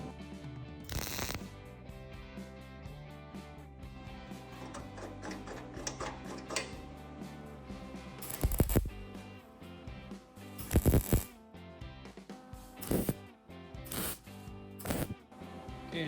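A MIG welder tacks roadster body panels together, making short, sharp crackling bursts at irregular intervals over a steady musical background.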